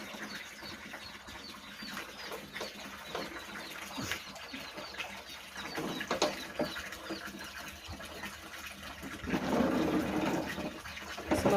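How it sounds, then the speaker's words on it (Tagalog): Water pours into a drum for a pressure washer setup, a steady rushing fill with splashing that swells louder near the end, with faint bird calls in the background. "Yung drum, nilagyan na po ng tubig."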